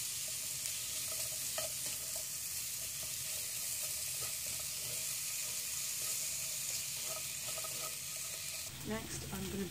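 Mushrooms and onions stir-fry in a hot pan for yakiudon with cabbage and pork belly, giving a steady, close sizzle and scraping throughout, with a few clinks of a utensil and a louder clatter near the end.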